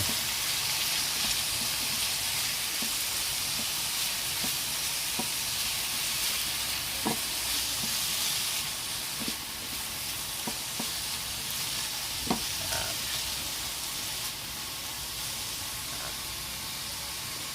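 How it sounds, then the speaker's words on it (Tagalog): Bitter gourd (ampalaya) stir-fried in a pan, a dense steady hiss of hot oil with scattered scrapes and knocks from a spatula stirring, close up and unbroken throughout, no talking. "Tapos lagay na natin ang ampalaya. Halo-halo muna natin."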